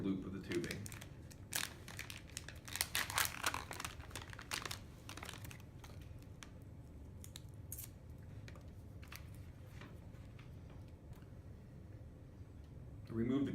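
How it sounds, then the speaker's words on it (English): IV tubing is pulled from its package and paper tape is peeled from the coiled loop, giving crinkling plastic and sharp tearing and ripping bursts. A voice speaks over the handling noise. "Remove the tubing from the package and remove the paper tape from the loop of the tubing."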